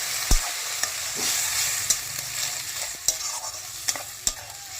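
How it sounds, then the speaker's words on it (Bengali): Spice-wash water is poured into masala frying for Bengali mutton kosha with potatoes. It crackles and sizzles steadily while a spoon scrapes and knocks against the pan at irregular intervals. "এবার আমি মশলা ধোয়া জলগুলো মশলার মধ্যে দিয়ে দিলাম"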